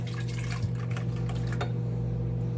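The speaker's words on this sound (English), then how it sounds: "you're going to need 1 1/3 cup of whipping cream. Pour that in." Thick whipping cream pouring and dripping into a container over a steady low hum, with a few soft splashes.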